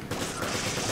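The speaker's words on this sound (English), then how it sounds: "two shots to the head with the pistol stuns his ass" Rapid pistol headshots in Resident Evil 5 come as a dense flurry of sharp gunfire cracks over a loud, busy game soundscape, lasting about a second.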